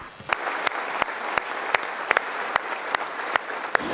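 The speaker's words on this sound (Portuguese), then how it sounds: "Ao terminar o discurso, foi aplaudido de pé." A standing ovation fills the Polish parliament, heard as faint, steady, distant clapping from a large room, with a few sharper individual claps sounding out at regular intervals.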